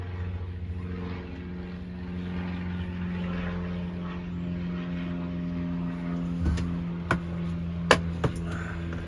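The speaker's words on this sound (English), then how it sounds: "That's a lot of fucking loud aircrafts, guys." A loud aircraft passes overhead in Venice, Los Angeles, its low droning engine roar swelling and holding under street ambience, with a few sharp clicks and knocks nearby near the end.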